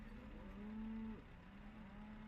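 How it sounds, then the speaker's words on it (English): Cows mooing in the ProMods truck simulator mod, heard as a single drawn-out low moo followed by a fainter second moo over a steady engine drone. "Oh, we have some cows. Do you hear them?"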